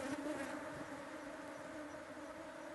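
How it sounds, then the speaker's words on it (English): Honey bees swarm around a hive comb held during a beekeeping inspection in Kenya, making a steady, close, dense buzzing drone that fills the whole stretch without pause or talk. "It's good to shake the bees so that you can see your comb well."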